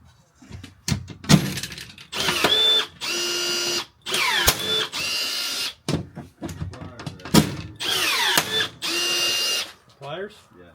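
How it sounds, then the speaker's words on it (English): A power drill bores a hole in a wooden sleeper in repeated bursts of high whirring, stopping and restarting, with clicks and knocks between runs, near and fairly loud. "beat it out of there and re-drill it"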